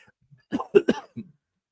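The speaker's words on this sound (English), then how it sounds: "I got this tickle in my throat and I was going to cough" A close, sharp fit of three or four quick coughs in a row, ending in a softer throat-clearing rasp, with near silence around it.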